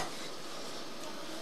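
Tilapia and garlic frying in a pan, a steady broadband sizzle with crackling spatter, close and continuous, with no voices.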